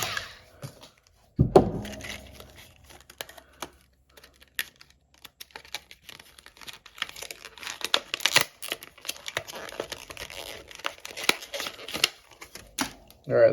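Packaging of a Pittsburgh Automotive 5/16 side terminal battery ratchet wrench being cut open close up: irregular snips, tearing and crinkling of plastic with scattered clicks and a sharp thump near the start, no voices.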